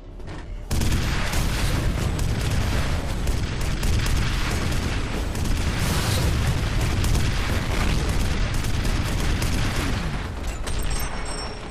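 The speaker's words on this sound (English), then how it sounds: "That was a bigger explosion than what I gathered." Huge explosion in the shooter game F.E.A.R., a sudden loud blast followed by a sustained roaring, crackling rumble with debris and gunfire-like bursts that carries on at high volume for over ten seconds.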